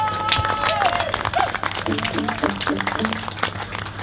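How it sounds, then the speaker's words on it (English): An audience applauds the blues band Bluesface at a live blues and soul festival, a dense, steady patter of clapping with a voice speaking over it. "So please give them a big round of applause"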